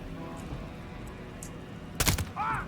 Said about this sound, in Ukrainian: Ти відчуваєш кожен вистріл, кожен хедшот. Просто такий смачний хлопок.